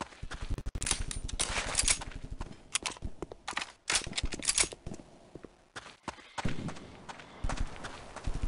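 Machine gun fire in Counter-Strike Condition Zero: Deleted Scenes, broken into short, uneven bursts of sharp rattling shots with quiet gaps between them, moderately loud and without talk.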